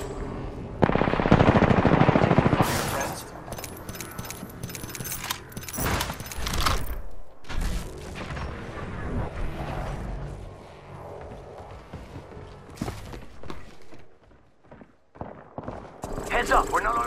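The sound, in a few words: enemy gunfire in video game Apex Legends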